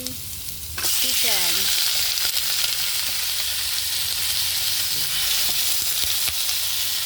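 Chicken pieces drop into a hot pan with ginger for adobong manok sa gata and set off a sudden loud frying sizzle that carries on steadily, with occasional stirring knocks and a brief high squeak.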